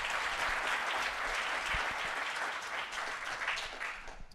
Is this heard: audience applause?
yes